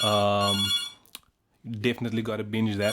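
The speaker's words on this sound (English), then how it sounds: "that's my phone ringing" A phone rings indoors with a loud, sustained electronic tone that cuts off, then someone talks casually and the ringing continues under his voice.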